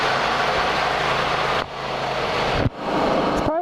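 A hydraulic-transmission vehicle engine, started with a key, runs loud and steady at close range, briefly dipping twice before resuming its roar.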